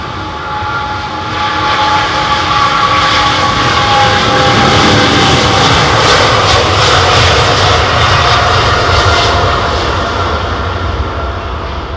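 Jet airliner engines at London Heathrow Airport roar in a steady, loud, sustained drone that swells slightly and then holds for the whole stretch.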